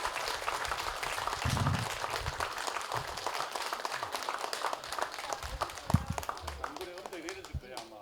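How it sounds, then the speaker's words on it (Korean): Fairly faint applause from the crowd at a commemoration festival for General Jeong Gi-ryong, continuous clapping under scattered voices and some low bumps. "우리 정유수 사단장님 앞으로 이 나라를 위해서 큰일 할 수 있도록 여러분 큰 박수 한번 보내주시기를 부탁드리겠습니다"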